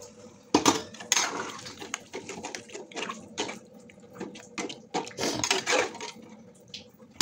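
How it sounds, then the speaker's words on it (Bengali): Hot water is poured into a pot of jackfruit chicken curry, a close splashing pour mixed with clattering pots and clinking utensils in a home kitchen, irregular and fairly quiet. "এই জলটা ঢেলে দেবো।"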